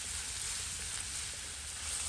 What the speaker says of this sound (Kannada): 2 ಈರುಳ್ಳಿನ ಹಾಕ್ತಾ ಇದ್ದೀನಿ. ಈರುಳ್ಳಿ ಒಳ್ಳೆ ಸಾಫ್ಟ್ ಆಗಬೇಕು.